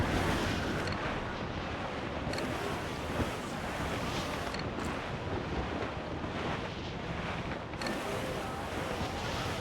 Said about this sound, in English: That wind's no small gale